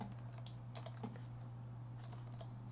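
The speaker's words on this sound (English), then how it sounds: "So I'm going to type in respond to webhook." Soft clicks of typing on a computer keyboard, a quick irregular patter of keystrokes over a low steady hum, quiet and close.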